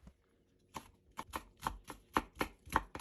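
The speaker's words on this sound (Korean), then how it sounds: "청양고추와 홍고추는 어슷 썰어주세요." A knife slices green and red chili peppers diagonally on a cutting board in quick, even strokes, about eight crisp taps speeding up slightly, close and clear with no talking.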